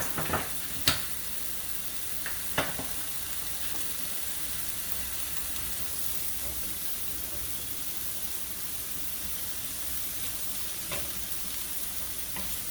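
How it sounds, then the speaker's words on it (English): Onions with a pinch of salt sauté in a pan for Vietnamese crab noodle soup, a loud steady sizzle and hiss running throughout, broken by a few sharp stirring clicks near the start. "in order to speed up the cooking process of the onions, we just add a little bit salt"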